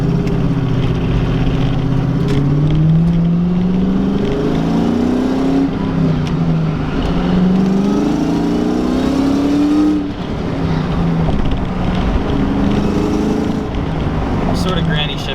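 A 500whp Ford Terminator Cobra engine revs over and over while the clutch slips, a loud rising and falling drone heard from inside the car, with someone talking throughout.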